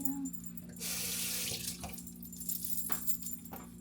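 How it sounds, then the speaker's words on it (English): A tomato rinsed under a running kitchen faucet, the water a steady close hiss with a brief louder gush as it strikes the fruit and a few small knocks, with no voices. "let me rinse this tomato"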